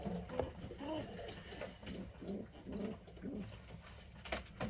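A grizzle racing homer pigeon coos in soft, repeated low phrases close by, with a faint high bird chirping in the background.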